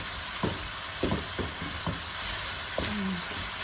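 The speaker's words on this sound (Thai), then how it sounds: "ผัดให้มัน ให้หมูสุก หน่อยนึง แล้วก็ปรุงเครื่อง" Pork with chili stir-fried in a pan, a constant hiss of frying broken by several sharp scrapes and clacks of the spatula at an uneven pace, close and alone without talk.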